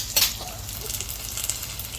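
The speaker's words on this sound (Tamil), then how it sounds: "இப்போ ஒரு வானிலையில் கடுகு, வரமிளகா தாளிப்புக்கு போட்டுக்கலாம்" Mustard seeds and dried red chillies crackle and sizzle in hot oil for a sambar tempering, with a sharp pop at the start followed by a continuous close hiss.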